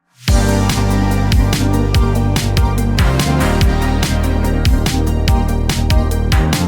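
Dense, loud music with steady drum hits, deep bass notes and layered synths playing continuously without a break.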